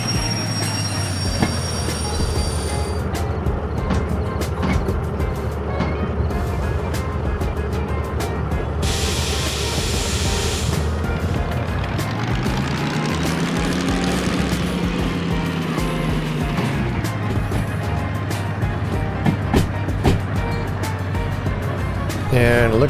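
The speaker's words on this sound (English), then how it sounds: "it looks like the train is turning correctly" Train rolling along track in the Derail Valley video game, a continuous low rumble with a long rising and falling wheel squeal as it takes a junction turn, lasting throughout.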